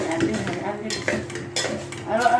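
Food being stirred in a pan for a spicy dish, with scraping and clinking of utensil against cookware in uneven strokes and a light sizzle underneath, close and moderately loud.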